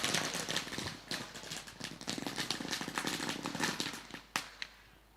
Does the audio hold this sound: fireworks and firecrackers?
yes